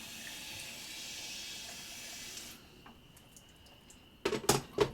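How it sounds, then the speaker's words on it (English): Water running from a tap into a kitchen sink or container while cabbage and radish kimchi is being prepared, a steady hiss for about half the clip, then quieter with clinks and splashing bursts near the end. "We'll add some water."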